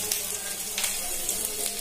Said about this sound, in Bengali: পেঁয়াজটা অল্প একটু ভাজা ভাজা করে নেব।